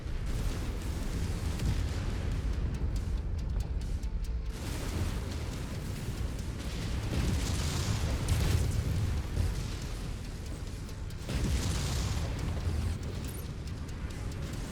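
Explosive tanks bursting in MechWarrior 5: Mercenaries battle, a dense, continuous roar of booms and blasts layered with heavy rumbling, with louder eruptions flaring near the start, middle and later on.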